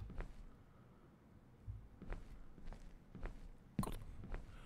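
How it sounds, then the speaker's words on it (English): Footsteps in a horror video game tread at a slow, steady pace across a quiet, dim ambience, roughly six distinct steps with a slightly louder thump near the end. "Very good on the sound design for the footsteps, by the way."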